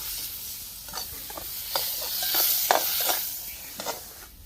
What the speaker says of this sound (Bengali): দেখো গাজরটাও আমি একটু ভেজে নেব।